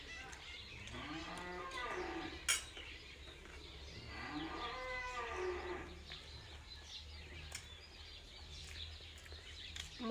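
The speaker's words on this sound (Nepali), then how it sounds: "पल्लाहरूका गाई कराउनु थाले" Cattle mooing on a farm, two long drawn-out lows a few seconds apart at moderate distance, with a brief sharp knock between them and soft outdoor background.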